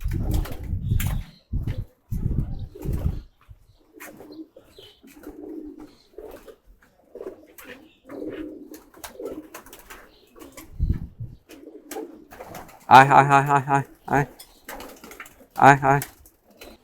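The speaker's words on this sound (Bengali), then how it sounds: "কবুতরের বাচ্চাগুলো বের হয়েছে দেখেন এই যে" Pigeons with newly hatched chicks give two short bursts of throaty cooing near the end, after a stretch of people talking nearby with low thumps at the start.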